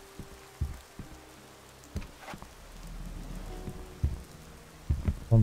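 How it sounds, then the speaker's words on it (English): Rain in the video game Gothic 2 falls as a low, steady patter under scattered thuds and clicks from gameplay. The sound is moderate and continuous, with a few louder knocks near the end. "sadly we see nothing because of the damn rain"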